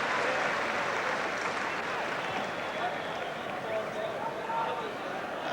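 A 65,000-strong football crowd at Hampden Park, Glasgow, roars and applauds steadily, a dense, broad wash of noise that holds level throughout without a break.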